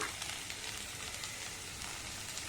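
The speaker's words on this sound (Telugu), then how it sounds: "బెండకాయని వేయించుకోవాలి" Okra, or lady finger, fries in a pan with a soft, even sizzle that holds steady throughout. Faint crackles drift in under it, and no one speaks.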